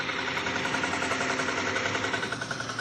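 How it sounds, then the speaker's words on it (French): A tractor made in Vierzon, France runs steadily with a dense, continuous mechanical drone and a fast even pulsing throb, close and loud, with no voices. "C'est un tracteur. Un tracteur."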